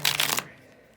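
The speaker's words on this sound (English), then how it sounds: "A real nice, easy shuffle that sticks together and doesn't slide everywhere." A tarot card deck is riffle-shuffled once, a quick close burst of papery flutter that ends abruptly and leaves near silence.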